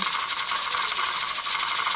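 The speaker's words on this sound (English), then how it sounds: "Now you can see why we call it a jiggler. It's just jiggling along, and you can see the steam coming out the bottom." The jiggler on an old pressure canner rattles quickly and steadily while steam hisses out beneath it, a loud, continuous, close-up sound with no talking.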